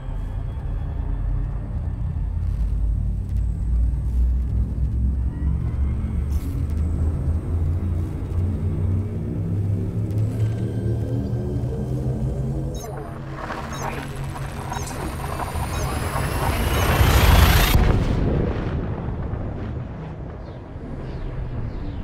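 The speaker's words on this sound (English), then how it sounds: "Frameshift drive charging." Frameshift drive charging in the video game Elite Dangerous, a loud rising hum and rumble that builds in pitch to a bright whooshing peak near the end, then drops away.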